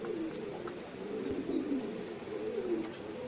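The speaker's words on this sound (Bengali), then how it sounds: "খুব সুন্দর একটা কবুতর" Pigeons of the pankhi breed, including a large blue-eyed bird, coo in low, soft rolling calls, several overlapping throughout amid faint chirps from other birds nearby, with no talking.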